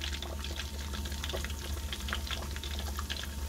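Catfish nuggets sizzle in hot grease: a dense, steady crackle and spatter that runs evenly throughout, close and moderately loud, with no voices.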